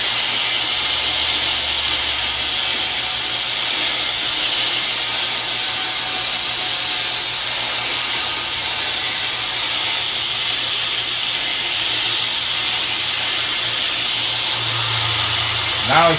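An angle grinder runs continuously at close range, grinding a homemade slip harpoon tip near the cut and flattening its center, a steady loud whine with a shifting pitch near the end.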